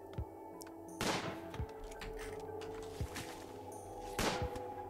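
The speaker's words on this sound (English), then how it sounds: "Shoot that fox." Muffled gunshots from hunting a fox in RimWorld, a few sharp bursts spaced irregularly over a steady low game-music drone, moderately quiet, no speech.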